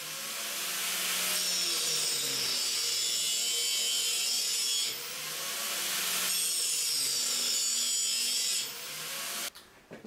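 A power tool bevels the ends of metal pieces for a shipping-container hitch, giving a loud, harsh continuous grinding whine in two long passes with a brief dip between, then cutting off abruptly at the end.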